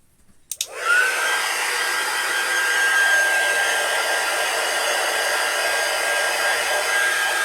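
A hair dryer switches on after a click and runs as a steady, loud, close whoosh with a high whine, drying wax on a craft window insert, with no voices.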